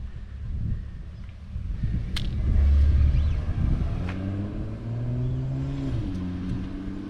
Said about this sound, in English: Justin took it out for a drive.